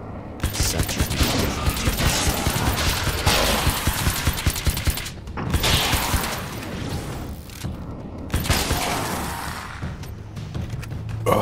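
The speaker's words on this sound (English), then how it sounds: "Oh, thank God for nail guns." Rapid bursts of nail gun fire in Alan Wake's American Nightmare, loud, dense and close, in three long volleys with short gaps between them.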